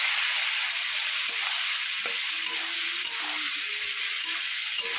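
Ground spice masala cooking down in a pan with a little water, a constant bright hiss and sizzle with faint stirring scrapes and ladle taps underneath, no talking.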